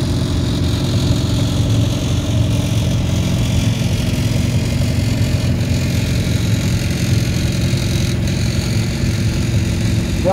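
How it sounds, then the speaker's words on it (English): A Farmall Super C tractor rolling along the track in a 2019 farm club tractor parade: a loud, steady engine drone with a constant low rumble, close by and unbroken. "The Farmall Super C coming down the track here"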